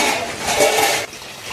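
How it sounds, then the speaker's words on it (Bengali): About a cup of water poured into a pot of cooking chicken biryani, a loud, close, gushing splash lasting about a second before it cuts off to a quieter simmer, no voices. "এবার আমি 1 কাপের মতো জল দিয়ে দেবো"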